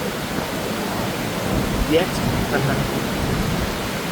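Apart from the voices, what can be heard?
monsoon night rain in Bangkok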